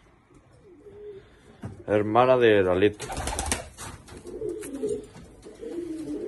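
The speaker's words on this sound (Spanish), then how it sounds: "Esta es una paloma de clase" Pigeons coo in a loft, one loud, close throaty call standing out among fainter coos, with someone speaking over and around them.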